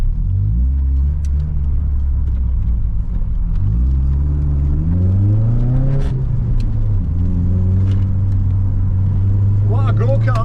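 An A-reg Vauxhall Nova 1.6i is driven hard, its engine droning and climbing through the revs in steady rising sweeps, dropping back and pulling up again as it shifts, heard from inside the car.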